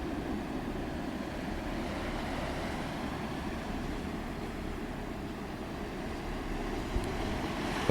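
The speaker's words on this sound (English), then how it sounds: "The hiss and the crashing of the waves" Ocean waves crash steadily against large coastal boulders on a windy day, a continuous roar and hiss of surf with wind rumble on the microphone, with no voices.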